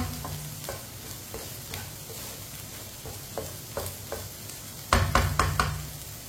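Eggs and okra cook together in a pan, a steady low sizzle broken by regular spoon taps and scrapes, then a louder cluster of quick stirring knocks near the end; no talking.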